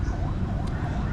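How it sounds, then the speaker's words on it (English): An ambulance siren passes along the road out front of a home in the Philippines, a steady wailing tone heard from outside at moderate loudness over a constant background hum. "there's sirens going off, there's an ambulance or going down the road out front"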